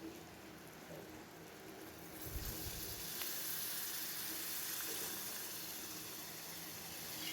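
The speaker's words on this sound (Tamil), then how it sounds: "இப்போ இந்த டயத்தில் நம்ம வந்து புளி தண்ணி சேர்த்துக்கலாம்." Tamarind water is poured into a pan of onion kuzhambu, with onions sautéed in oil. A quiet background bursts into a steady sizzling hiss partway through and keeps going to the end.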